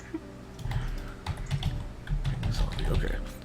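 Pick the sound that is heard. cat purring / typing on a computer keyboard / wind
typing on a computer keyboard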